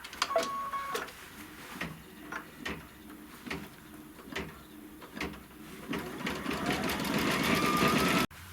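Embroidery machine sewing the small holding stitch at the center of a fabric flower, a steady rapid needle chatter with rhythmic thumps, growing denser and louder toward the end before stopping abruptly.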